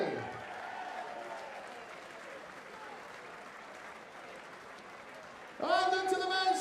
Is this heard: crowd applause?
yes